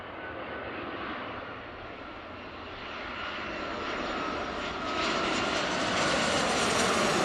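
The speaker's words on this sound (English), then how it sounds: "we've got an aircraft on approach" A large airliner on approach to Seattle's airport roars overhead, a broad engine rumble growing steadily louder and closer with rising whine, heard alone without talk.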